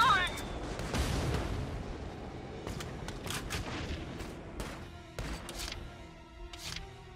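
Gunfire in the war game Valkyria Chronicles 4 crackles in several sharp bursts, with a heavy blast near the start and scattered shots after, under raised voices of squad members.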